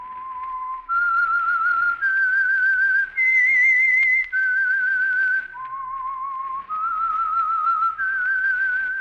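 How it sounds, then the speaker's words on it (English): A lone human whistler performs the eerie theme signal of The Whistler radio program, a slow stepwise melody of clear sustained pure notes, rising then falling, close and alone. "That whistle is your signal for the Signal Oil Program, The Whistler."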